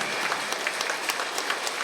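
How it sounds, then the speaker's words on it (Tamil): Steady audience applause at an award ceremony honouring students, dense and continuous clapping at moderate level with no voices on top. "அந்த உயர்ந்த ஆன்மாவுக்கு பலத்த கைத்தட்டல்"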